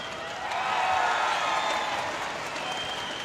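A basketball arena crowd at a FIBA Women's AmeriCup game between Cuba and Puerto Rico answers with a swell of applause and cheering that peaks quickly, then settles into a sustained, dense roar.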